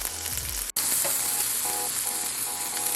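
A burger patty sizzles and fries steadily in a hot pan at home, a dense continuous crackle with a brief dropout near the start, close and fairly loud with no talking.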